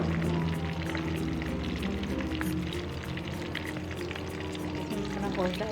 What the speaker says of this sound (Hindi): अदरक लहसुन हमारा फ्राई हो रहा है। अब इसमें हम अपने गोश्त डाल के फ्राई करेंगे।